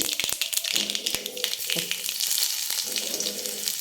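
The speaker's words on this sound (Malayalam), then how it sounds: "കടുക് പൊട്ടിക്കൊണ്ടിരിക്കുന്നു" Mustard seeds popping and crackling in hot coconut oil in a clay pot, a busy sizzle broken by sharp close pops at irregular moments.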